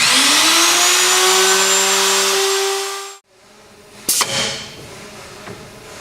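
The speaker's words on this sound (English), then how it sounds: "Now we've made an adjustment, we're going to cut the mortise a second time." A Norfield 350H hinge routing station router screams loudly as it cuts a mortise for a door hinge, a high steady whine for about three seconds that winds down abruptly, followed by a few faint clunks and rattles.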